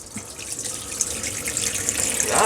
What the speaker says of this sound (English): Flowing like Niagara Falls.